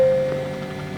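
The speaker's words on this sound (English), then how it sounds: "As you can see now, the engine's started." A McDonnell Douglas MD-80 jet engine runs in the X-Plane 10 flight simulator, giving a steady broadband whooshing roar with a brief thin tone at the start, alone and fairly loud.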